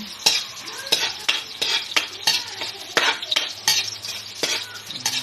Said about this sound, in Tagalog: ilagay natin yung sibuyas. Then, haluin natin.